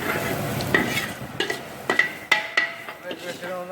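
Spice powders such as coriander powder, garam masala and turmeric sautéed in a pan, a low sizzle broken by several distinct scraping stirs and light clinks of a spoon against the pan.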